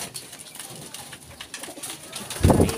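Pigeons cooing during feeding, low soft cooing near the listener mixed with light rustling, growing louder toward the end.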